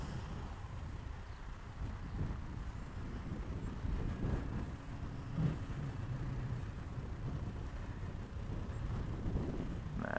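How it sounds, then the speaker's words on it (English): Steady wind buffets the microphone at an outdoor model flying field, a continuous low rumble with gusty swells and no other clear sounds. "there's a lot of wind"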